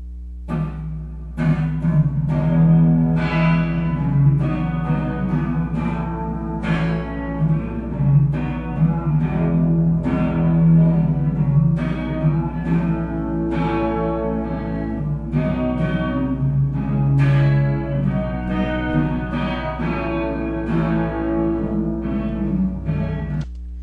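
Music track with a reverb effect applied, sustained tones and plucked or struck notes trailing off into a wash of echo, playing continuously at full level.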